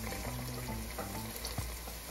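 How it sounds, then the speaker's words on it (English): Eggplant caponata with anchovy fillets sautéing in a pan makes a steady, moderate frying sizzle with a few soft stirring scrapes, no voices over it. "you just keep sauteing that a little bit until that gets, they end up dissolving in there"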